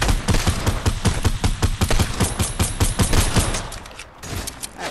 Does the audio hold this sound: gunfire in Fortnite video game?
yes